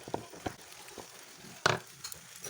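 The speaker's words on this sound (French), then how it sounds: "Et je vais prendre le temps de mélanger." Cooked pasta being stirred with cheese in a hot pan, a soft steady sizzle broken by several scraping knocks of the utensil against the pan, close and quiet.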